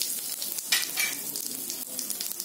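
Asafoetida and cumin seeds sizzling in hot oil for a Marathi-style dum aloo potato curry, a steady close crackling fry with small pops and spits, fairly quiet and without talk.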